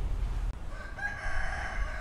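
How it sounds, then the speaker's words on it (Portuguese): A neighbour's rooster crows once, distant and fairly faint, its drawn-out call rising over a steady rural background hum with no talking. "O galo do vizinho."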